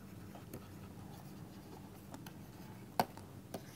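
Writing on a board during a quantum mechanics lecture: faint, intermittent scratching strokes and soft taps, with one sharper knock near the end, in a quiet room with no talking.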